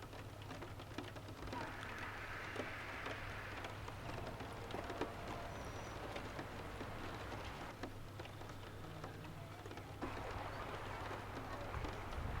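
Rain falls steadily around a camper van, a continuous soft patter with scattered drops, joined by a low hum and faint bird sounds in the background.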